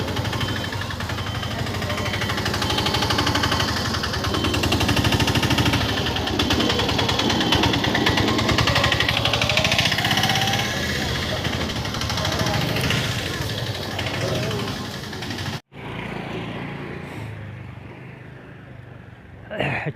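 Tractor engine running nearby with a steady, close mechanical hum and vibrating rattle for most of the stretch, then dropping off sharply to a quieter background.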